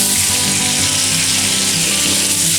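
Bacon frying in a pan, a loud, close, continuous crackling sizzle with no pauses and no voices.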